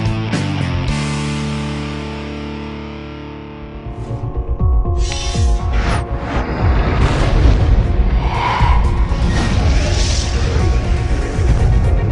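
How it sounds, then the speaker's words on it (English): A Big Bang explosion effect starts as a swelling, droning rumble and bursts at about four seconds into a loud, echoing boom that rolls on as a dense, roaring blast through to the end. "The Big Bang."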